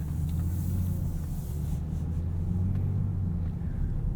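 A 2023 Land Rover Defender 130 First Edition pulls away on the road, its engine giving a steady low rumble heard from inside the cabin, continuous and even with no voices.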